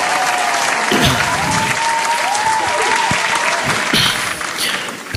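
A live audience at a Punjabi poetry show in Hamilton, New Zealand, claps loudly and steadily for several seconds, a dense burst of hands that thins slightly toward the end.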